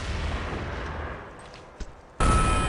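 Gunfire and a grenade blast in a competitive shooter game match: rumbling noise, a couple of sharp reports, then a sudden loud, sustained burst of sound.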